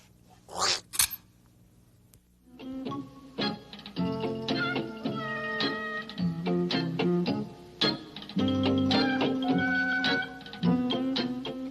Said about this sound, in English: This is my kitten, Dusty.